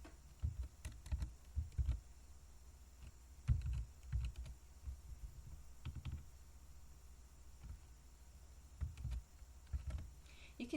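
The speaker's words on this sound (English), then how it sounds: "As I'm typing in this PHP code" Keystrokes on a computer keyboard as PHP code is entered in an editor, coming in short uneven bursts of clicks with brief pauses, fairly close and quiet, with no talking.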